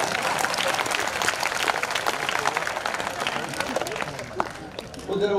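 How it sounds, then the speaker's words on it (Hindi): Audience applause at a Hindi poetry gathering (kavi sammelan), dense continuous clapping from a crowd throughout, with a brief voice near the end. "ढंग से तालियां बजाइए"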